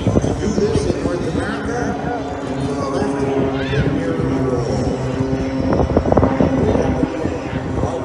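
Snowbirds aerobatic team jets pass overhead at an air show in Barrie, Ontario, a continuous roaring drone under a loudspeaker announcer's talk.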